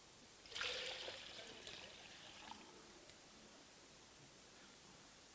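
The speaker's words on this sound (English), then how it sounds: "we need to just add a little bit more water now." Water is poured into a container at a church service, a faint splashing trickle that rises briefly and then settles into a quiet, steady flow.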